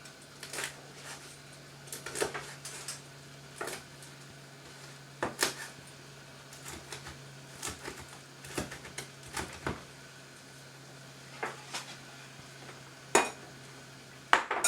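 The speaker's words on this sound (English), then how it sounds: "I'm just going to chop it up" A knife chops cooked bacon on a cutting board in a kitchen. Sharp, close taps land in an irregular rhythm of scattered single and double strikes over a low steady hum.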